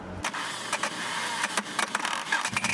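A Honda CRX fitted with Lambo doors cranks and starts, its engine catching with a steady mid-range running sound and some clattery bursts, heard close with no talking.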